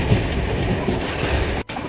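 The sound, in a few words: train running on rails, Velankanni Express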